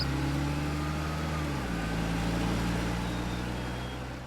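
A car approaches on a quiet road, its engine a steady droning hum that drops in pitch partway through and then fades slightly.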